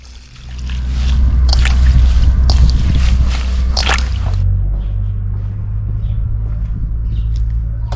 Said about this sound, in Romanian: Mă voi duce undeva la o chiuvetă să le spăl.